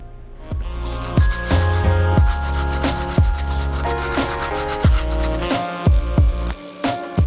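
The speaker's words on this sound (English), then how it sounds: "now I'm gonna go ahead and move on to the outsole with that stiff bristle brush" A stiff bristle brush scrubs the outsole of an Air Max 1 sneaker in a series of close, rasping strokes, each ending in a sharp scratchy accent, repeated at an irregular pace with no speech.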